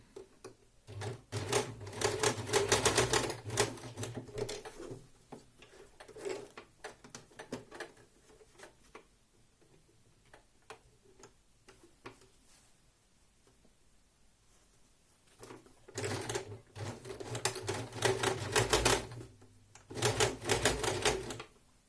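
A sewing machine stitches the hem of a kimono in rapid rattling bursts, loud runs separated by quieter pauses with a few light clicks, close by and without talk.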